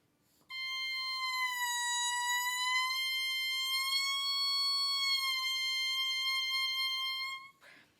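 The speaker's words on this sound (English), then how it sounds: "I am going to just slightly roll out and roll in my embouchure, and you'll hear a slight pitch change" A reed instrument warming up holds one long, steady tone for about seven seconds, its pitch sagging slightly and rising again as the embouchure rolls out and back in, rich in bright overtones, close and loud, with no talk.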